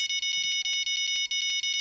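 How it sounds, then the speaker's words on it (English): An alarm in a room beeps rapidly and steadily, a shrill high-pitched electronic tone pulsing in quick repeated bursts, fairly close and alone. "Sorry about the beeping."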